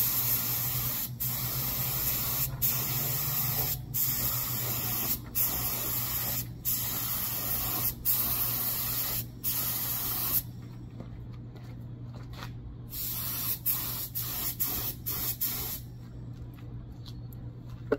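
Spray gun misting Versacoat paint onto an Xbox One controller, a steady close hiss in repeated bursts with brief pauses between passes, carried over a low constant hum.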